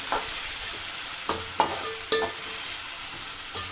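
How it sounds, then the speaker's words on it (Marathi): Chopped tomato being stirred with onion and garlic in a frying pan, with a few distinct scraping stirs and light clinks over a soft, steady sizzle, no voices. "टोमॅटो सुद्धा आपण कांदा आणि लसूण मध्ये मस्तपैकी मिक्स करून घेऊयात"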